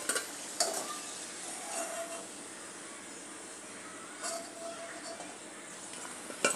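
Onion samosas frying in hot oil give off a steady close hiss and sizzle, with occasional light clinks of a utensil against the pan.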